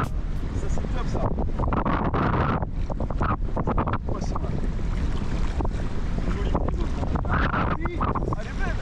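Shore fishing for trevally, a fishing rod and reel strain against a hooked fish while strong wind roars across the microphone, the reel's sound buried under constant loud gusting and water noise.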